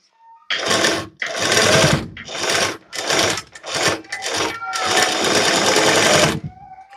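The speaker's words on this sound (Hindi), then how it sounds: "तो देखो आपको इसी तरीके से टक्स की सिलाई लगानी है।" A sewing machine stitches tucks on a Jimmy Choo style blouse in several loud, close bursts of fast, buzzing needle action, separated by short pauses, with the final run the longest.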